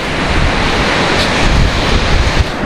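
Waves rolling onto a beach at the seaside, a steady broad wash of surf mixed with wind rumble on the microphone, continuous and fairly loud across the whole stretch with no voices.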